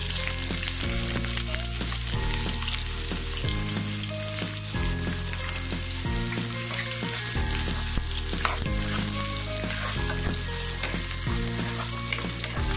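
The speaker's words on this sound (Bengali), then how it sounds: "পেঁয়াজটাকে আমি ভেজে নিচ্ছি।" Onions frying in hot oil with whole spices for mutton kosha: a loud, dense sizzle with repeated stirring scrapes, over a steady melodic tone in the background.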